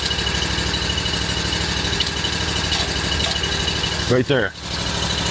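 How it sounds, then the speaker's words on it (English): An Oscar 52 portable sawmill's motor runs steadily at a close, loud idle-like drone throughout, with a brief rising burst near the end and a short spoken remark over it. "Throttle up. Jog your motor down, just let it run and work."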